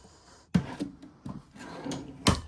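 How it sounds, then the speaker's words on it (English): Wooden drawers in a 2026 Cherokee Alpha Wolf 26DBH travel trailer kitchen slide and thump shut a few times nearby, with soft rubbing scrapes between the knocks. "Right there's your silverware divider plus 2 more drawers."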